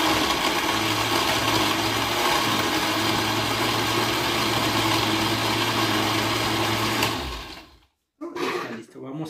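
A blender whirs loudly and steadily for about seven seconds as it mixes piña colada. The motor then cuts out, and a voice speaks afterward.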